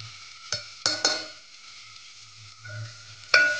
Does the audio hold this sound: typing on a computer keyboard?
no